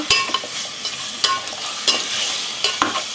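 Goat head curry simmering and being stirred in a pan, a steady sizzle punctuated by repeated sharp scrapes and knocks of a spoon, close and fairly loud.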